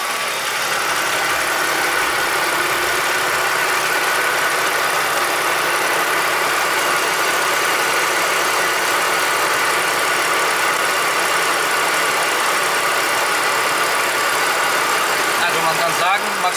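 A BMW car engine running at idle, steady and fairly loud throughout, with a constant broadband hum and no change in pace.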